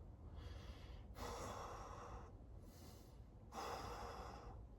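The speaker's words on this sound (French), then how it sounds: "Respiration profonde." Deep breathing during a front lever calisthenics workout: three long, loud, airy breaths taken close up, each separated by a short pause, with no talking.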